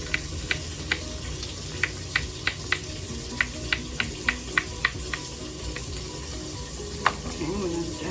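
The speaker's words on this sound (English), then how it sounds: "we're letting our bacon cook" Bacon sizzles steadily in a pan, with a constant frying hiss punctuated by a regular series of sharp pops and crackles, close and fairly loud.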